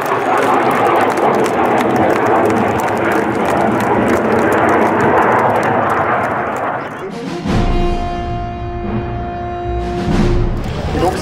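A Catalina aircraft flies past at the Biscarrosse airshow: a loud, broad roar gives way to a steady droning engine tone with clear humming pitches, while an announcer talks over it.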